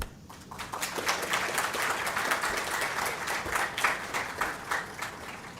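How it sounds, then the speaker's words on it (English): An audience at a university lecture by Korean ambassador Choi Yeonghan on Korean soft power gives a round of applause: dense, steady clapping that fills the room for the whole stretch, with no talking. "Please join me in a round of applause."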